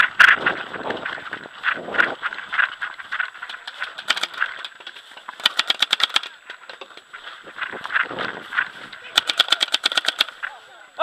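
Paintball guns firing during an outdoor paintball game, rapid rattling bursts of shots in several strings, mixed with shouting players and loose clatter throughout.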